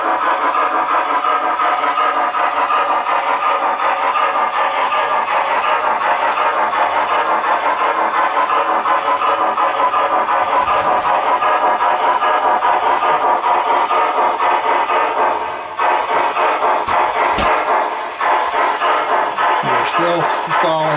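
An MTH GS-4 Proto 3 model passenger train, heavy and drawing about an amp, runs steadily with its onboard sound system, giving a continuous close mechanical chuffing and motor hum with brief clicks near the end.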